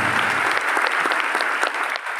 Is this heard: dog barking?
no